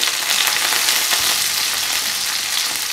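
Curry leaves fry in hot oil with a loud, dense, even sizzle that crackles steadily for a few seconds, close up and without any voices.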